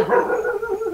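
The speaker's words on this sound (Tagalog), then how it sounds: "Ikaw po ba yung tinatahol ng aso dyan sa kapitbahay?" A neighbour's dog gives a short, close bark or yelp, a single brief tonal burst lasting under a second with no talk over it.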